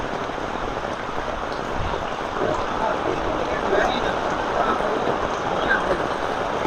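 Heavy rain suddenly pouring down in Jaffna, a dense, steady, loud wash of falling water that fills the whole stretch without a break.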